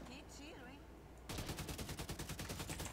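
Rapid automatic gunfire rattles loudly in The Division 2, a fast continuous burst that kicks in after a quieter stretch of background game sound.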